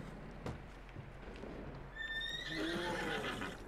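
A horse in Red Dead Redemption 2 lets out a high whinny, faint and somewhat distant, following a few soft hoof clops and low background ambience.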